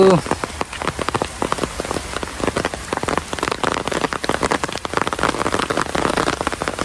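Steady rain falls on rice paddy laid out to dry, a dense, continuous patter of drops close by with a brief voice at the start.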